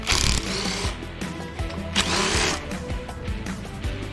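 A power tool whirs and ratchets in bursts while undoing the brake caliper on a 2023 Harley-Davidson Road Glide 3, loud and close, with pauses between pulls.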